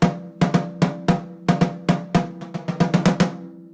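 A snare drum with its snares switched off is struck in a quick, uneven pattern of about twenty hits, each a dry ringing tom-like thud with no snare buzz.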